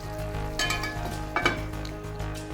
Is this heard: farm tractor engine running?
no